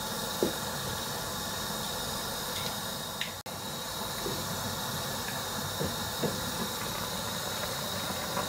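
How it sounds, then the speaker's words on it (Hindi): Water boiling in a cooking pot for tomato soup gives a steady, moderately quiet hiss and bubbling rumble with a few faint clicks. No one speaks over it. "ये पानी को आ गया उबाल।"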